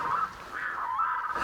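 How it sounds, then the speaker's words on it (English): Noisy birds honking nearby outdoors, a run of rising and falling goose-like honks that blend into one another over a quiet background. "There's quite noisy birds over there"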